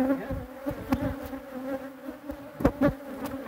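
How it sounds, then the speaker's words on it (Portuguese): A swarm of bees buzzes around a hive box, a close, wavering hum with individual insects passing near, plus a few soft knocks and thumps. "esse enxame aqui, ele estava mais populoso."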